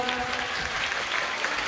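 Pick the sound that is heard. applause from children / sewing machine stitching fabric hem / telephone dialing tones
applause from children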